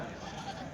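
Goats bleating amid the steady crowd murmur of a busy Tuesday goat and billy-goat market at Kadiri, the calls soft and blended into the continuous background din.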